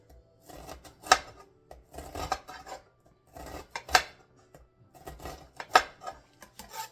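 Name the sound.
knife mincing onions for guacamole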